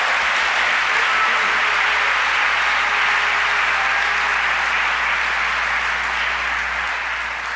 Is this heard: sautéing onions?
no